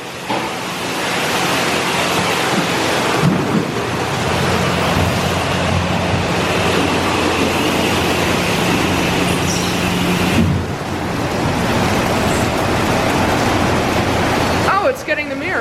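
A soft-wash car wash wheel scrubber runs at a Watermaster Car Wash in Grantsville, Utah, making a loud, continuous wash of spraying water and brushing with a steady low rumble, heard from inside the car.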